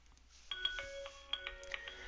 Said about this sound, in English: Alright, it rings my phone.